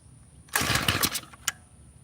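A tiller engine cranks and briefly sputters for about a second, then dies, followed by a short final knock and quiet.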